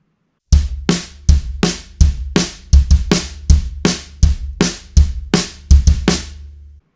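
A drum kit plays the opening kick-and-snare groove of a song at full speed, with steady, punchy hits that include doubled kicks on the fourth beat, played loud and alone with no talking.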